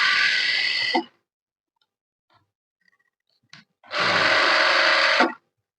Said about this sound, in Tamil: இப்போ நம்ம அப்படியே தச்சு திருப்பினதை மேலே ஒரு ஸ்டிச்சிங் பண்ணிக்கிடுவோம்